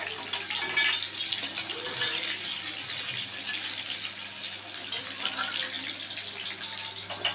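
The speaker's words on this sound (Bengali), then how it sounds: "আলুটাকে একটু ভেজে নিচ্ছি দেখো।" Potatoes frying in a pan for a vegetarian dhoka dish, heard as a steady, fairly close hiss and crackle with faint clinks of utensils, continuing throughout without talk.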